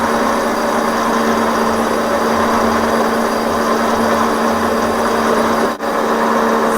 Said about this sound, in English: And now in with the center drill.